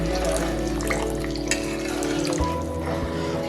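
Water pours steadily into a simmering lentil fritter (daler bora) curry, a continuous close-up stream of running liquid lasting several seconds with no pause.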